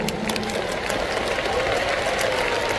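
A large concert audience at an EEG 25th anniversary show claps steadily and densely throughout, a continuous wash of applause with no pauses.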